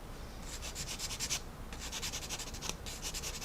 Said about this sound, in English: I'm just going to sand it away lightly